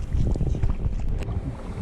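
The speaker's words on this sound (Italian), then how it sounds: "Il rumore che sentite è lo sbarramento che divide il Ticino dal Naviglio di Langosco." Broad, rushing water noise rumbles steadily, with gusty low roar of water pouring over the weir dividing the Ticino river from the Naviglio di Langosco canal, no voices.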